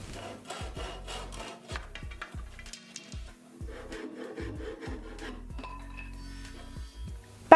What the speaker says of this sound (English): before I handsawed the protruding lengths